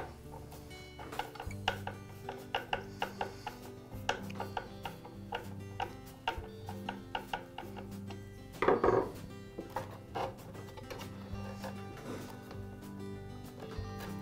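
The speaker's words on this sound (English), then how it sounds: "I'll begin by pulling the guard back and loosening the front guard screw." A screw on the front blade guard of a DeWALT miter saw is loosened with a hand tool, giving a run of quick metallic ticks and clicks with a louder rattle partway through, close up and with no talk.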